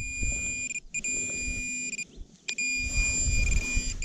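An X-TERRA metal detector sounds a steady electronic tone over a target buried about 15 cm deep. The tone comes in sustained bursts broken by short gaps, over faint outdoor rustling and handling noise.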